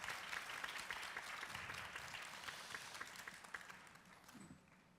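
An audience at a lifelong learning city forum applauds for several seconds in a dense patter of clapping that slowly fades, heard at a distance and fairly faint.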